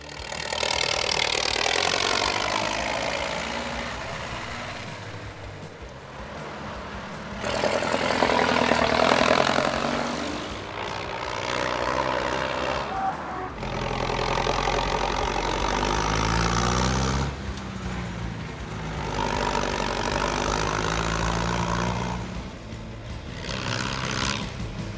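An old International 644 tractor engine idles for about 25 seconds, a steady mid-pitched rumble whose loudness rises and falls in several swells, with a deep low throb at times and no voices.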